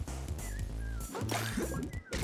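Small dogs bark and yip in the video game Grapple Dog, quick cartoonish yelps set against a bouncy game soundtrack, quiet and brief.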